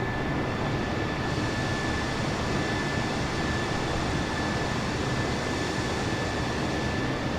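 Airbus A320neo airliner engines in Microsoft Flight Simulator 2020, a steady loud broadband roar with a thin constant whine, unbroken and alone.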